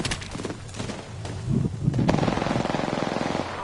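Video game gunfire starts as a few scattered shots, then turns into a rapid, even stream of automatic fire that runs close and loud to the end.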